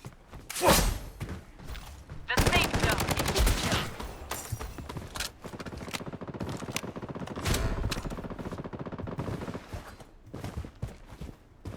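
Gunfire from a firefight in the Blood Strike shooter game, with bursts of automatic weapons fire and scattered single shots crackling loudly through the whole stretch, some thuds between volleys.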